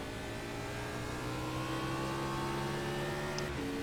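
Race car engines in the iRacing NASCAR sim drone steadily at green-flag racing pace, a continuous loud multi-car roar with sustained pitch lines and a brief shift near the end.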